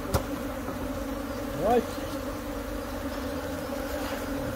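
Honey bees buzz steadily as they are shaken out of an open hive lid during a canola colony split, a dense droning hum with a brief louder surge midway and a single short word spoken.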